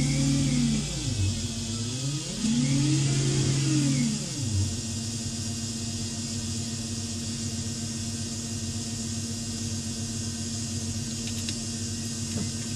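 A car engine revs up and down in two rising and falling swells early on, then settles into a steady hum that continues to the end, heard close with no talking.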